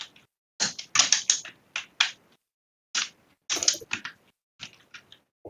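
Bursts of keyboard typing, quick clusters of sharp clicks separated by short pauses, close and fairly loud with no voices.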